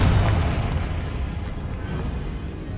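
A Confringo fire spell going off in the video game Hogwarts Legacy, a loud deep explosive boom up front that rolls into a long rumbling tail, gradually easing over a few seconds.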